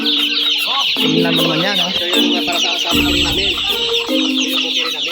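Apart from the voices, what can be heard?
chickens clucking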